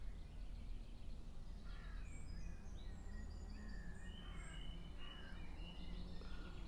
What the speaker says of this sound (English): The bird song is just amazing.